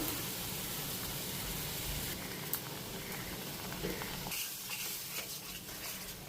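Cumin seeds and bay leaf frying in hot oil in a home kitchen, a steady close crackling sizzle with a brief stir or clatter midway and light patter toward the end.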